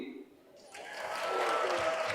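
An audience at a wellness session cheers and applauds, with a crowd wash that swells from quiet into sustained clapping and voices, moderately distant.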